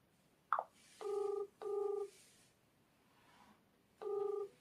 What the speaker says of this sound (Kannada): ಸೊ ಇವಾಗ ಗುಂಡನಿಗೆ ಫೋನ್ ಮಾಡೋಣ ಮನೆಗೆ.